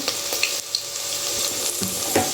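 Thinly sliced onions sizzle and fry steadily in leftover dosa batter in a hot pan, a continuous close crackle with a few brief stirring scrapes.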